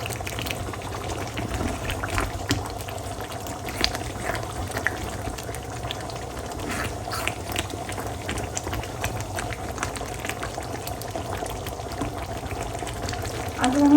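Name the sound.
roast dish cooking in a pan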